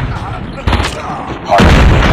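A flashbang grenade goes off in Call of Duty Mobile: a sharp close burst lands mid-clip, then a louder, sustained blast roars in near the end over the game's background noise.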